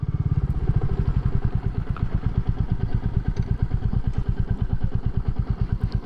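A Royal Enfield Meteor 350 motorcycle engine runs steadily and close, with a rapid, even thumping beat and slight mechanical clatter, alone without talk.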